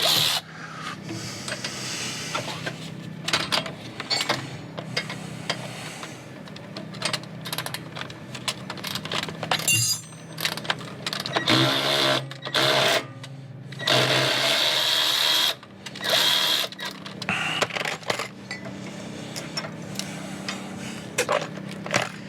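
A factory bolt being backed out of the steering stabilizer mount on a Ford Superduty, long stretches of close ratcheting and grinding metal rasps with brief pauses between bursts.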